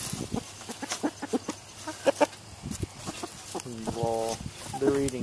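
Chickens clucking inside a coop, with short, repeated clucks and a few longer tonal calls close by, scattered irregularly over faint background noise.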